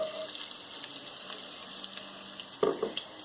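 Fresh corn and celery sizzling in a pot of beef stew, a soft steady hiss with a brief louder clatter near the end.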